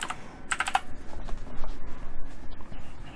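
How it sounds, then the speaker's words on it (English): Rapid computer keyboard typing, close and fairly loud, with a quick burst of clacking keys early on followed by steadier tapping throughout. "the keyboard's loud"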